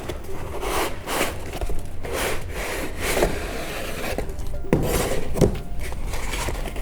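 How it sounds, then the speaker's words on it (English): A 2021 HP Pavilion 13 laptop is slid out of its box, with steady scraping and rubbing of packaging and a few sharper knocks near the end. "Okay, let me pull the laptop out."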